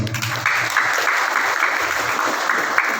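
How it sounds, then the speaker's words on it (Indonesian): Audience applause at an Islamic religious sermon celebrating Indonesia's 77th independence anniversary, a dense, continuous wash of clapping from a sizable crowd lasting a few seconds at steady loudness, with a brief murmur of voices at the start. "Tepuk tangan buat NKRI."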